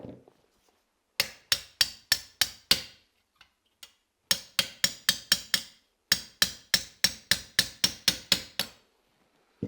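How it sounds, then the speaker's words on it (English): A hammer taps an AK leader kit hook onto its rail in three bursts of quick, evenly spaced sharp metallic blows, about five to nine strikes each, close and crisp with short pauses between, no voices. "If it goes tightly, use a hammer."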